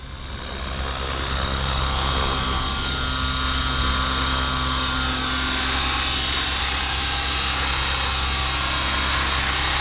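A radio-controlled helicopter in flight, a loud continuous whining motor and rotor drone with steady tonal hum that swells in at the start and holds evenly close by, with no voices.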